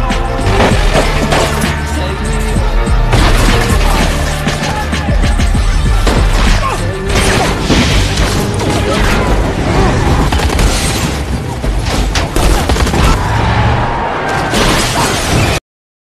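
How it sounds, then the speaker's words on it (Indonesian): An action-film gunfight: a dense, loud, unbroken mix of gunshots, booms, crashes and whooshing effects. It runs steadily for the whole stretch with no clear pauses. "Tempat itu menjadi ajang baku tembak"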